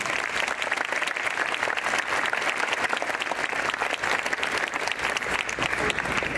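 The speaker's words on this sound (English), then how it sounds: "Let's give them a big round of applause." A high school crowd at a college signing ceremony applauds the signing students, with a loud, sustained wash of many hands clapping that stays even for over six seconds, plus a faint murmur of crowd voices beneath it.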